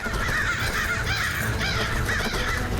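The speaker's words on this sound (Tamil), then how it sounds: "இந்த காக்காவெல்லாம் வெளியில விரட்டு." Several cartoon crows caw loudly and repeatedly, their harsh calls overlapping in a rapid, continuous chorus close by.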